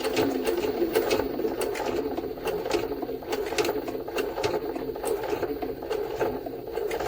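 Rapid, even needle chatter from a Jaguar SJ-23 sewing machine driving through twenty layers of linen at high speed, a continuous mechanical patter at moderate level with no pauses.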